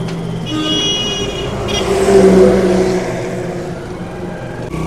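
A car passes on a road by a small underpass on the NH66 highway, its engine swelling to a peak mid-clip before fading, with steady traffic rumble behind and no talking.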